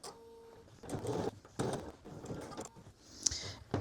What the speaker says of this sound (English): we are sewing at 1/2 inch seam allowance